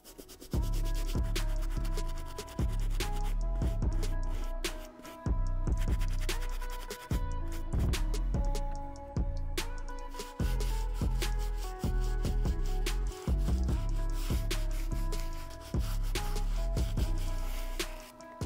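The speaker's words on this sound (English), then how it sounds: "I went ahead and used the medium bristle brush. I hit the uppers." Medium bristle brush scrubbing the uppers of a Balenciaga Triple S sneaker, close repeated rasping strokes in quick rhythmic bursts with brief pauses, heard alone.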